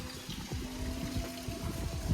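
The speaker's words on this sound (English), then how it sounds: "A waterfall." Water trickles and splashes softly from a small garden waterfall in the Algarve, Portugal, a faint continuous patter close by with no talk.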